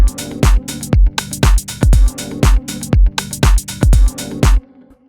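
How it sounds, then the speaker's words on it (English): Programmed drum beat built in Cubase, with an added kick drum thumping repeatedly under snare and hat hits in a tight, regular groove, loud and close, with no voices. "let's put an extra kick drum in here"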